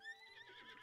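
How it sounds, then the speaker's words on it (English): A horse in Zelda: Breath of the Wild gives a quiet, brief whinny with wavering tones, faint and alone. "We got a good horse."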